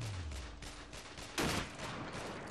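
Rifle shots ring out in the video game Sniper Ghost Warrior, a faint run of rapid reports with one louder, sharper shot partway through.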